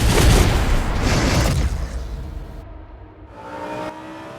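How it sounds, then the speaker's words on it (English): A GT race car lapping the Oulton Park circuit roars loudly and close up, then fades and tails off into a quieter, steady engine hum. "Warren Gilbert and Jensen Lunn took us for a test lap yesterday afternoon."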